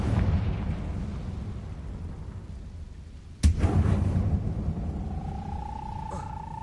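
In a Hogwarts video game, the Confringo spell sets off a sudden explosive burst partway through, followed by a rumbling decay and a rising magical tone over game sound.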